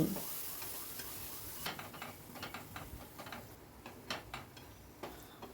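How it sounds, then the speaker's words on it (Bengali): A spoon stirs tomato spice masala in a pan with repeated scraping taps over a soft, steady sizzle, quiet and close. "এইভাবে নেড়ে নেড়ে ভালো করে কষিয়ে নিতে হবে মশলাটা।"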